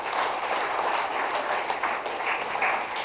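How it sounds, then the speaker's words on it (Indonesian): A church congregation claps at the opening of a first worship service, a moderate, fairly distant wash of steady applause lasting a few seconds. "Tepuk tangan bagi mereka."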